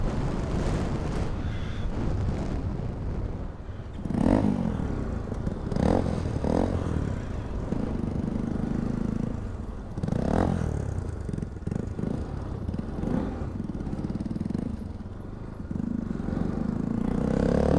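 Motorcycle ridden over a potholed road: a steady engine drone with repeated louder revving surges and rattling bumps, fairly close throughout.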